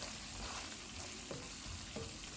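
Spice masala of coriander, cumin and fenugreek powders with salt fries in oil over low to medium heat for an aloo kofta curry. A steady close sizzle carries on throughout, with a few soft stirring scrapes.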